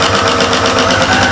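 A sewing machine bastes a bag's lining and outer layer together, running close and fast with a rapid, even mechanical chatter throughout the brief burst.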